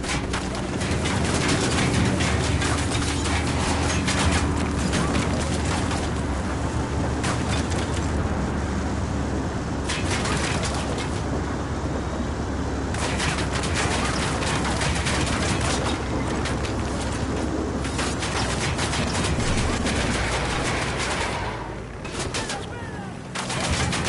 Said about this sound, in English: Unidad's firing at the cartel